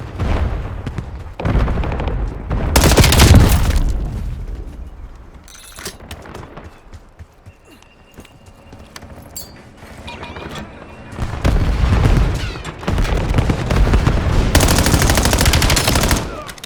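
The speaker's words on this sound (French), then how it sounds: "Je lance une grenade à dispersion." Call of Duty combat with a cluster grenade: loud bursts of automatic gunfire and booming blasts in heavy clusters at the start and again near the end, with sparser shots and quieter gaps between.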